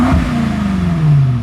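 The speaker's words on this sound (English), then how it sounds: "we're gonna rev it a couple times so you guys can hear how it sounds before" A BMW M5 Competition fitted with catless downpipes and front mount intakes revs hard and close up, a loud sustained engine roar whose pitch climbs steadily through the rev and holds near the top.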